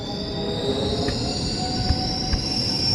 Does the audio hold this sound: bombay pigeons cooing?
no